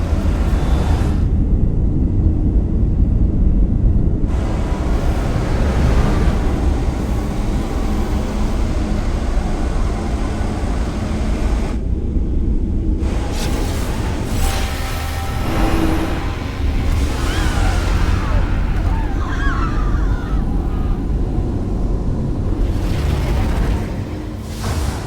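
A starship in the Star Trek Resurgence game takes weapons fire during evasive maneuvers, with heavy booming impacts and a continuous rumbling roar over the whole stretch. Brief sharp crackles and a few hisses cut through it.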